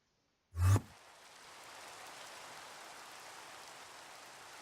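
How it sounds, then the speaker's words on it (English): Rain falling in the Minecraft video game, a steady soft hiss of rainfall that begins after a short thump and continues faintly and evenly. "And again, it's still raining."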